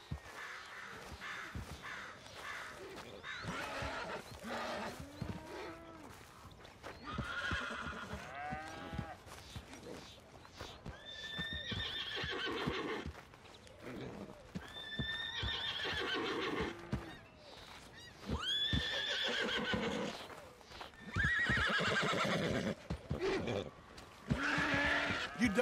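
Horses in the Red Dead Redemption 2 video game neigh and whinny several times amid hoof clip-clop, with crow caws and background ambience; brief game voices occur sparsely.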